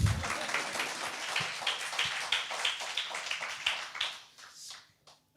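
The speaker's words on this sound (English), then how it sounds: "Yeah, you can applaud." A panel audience at a robotics startup talk claps in a short, moderate round of applause that fades away after about four seconds.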